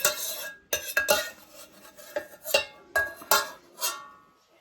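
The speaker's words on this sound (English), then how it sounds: "He's stirring the gravy." Gravy being stirred in a pan while it comes to the boil, heard as a series of sharp utensil scrapes and clinks against the metal in irregular bursts, close and fairly loud, with no talking.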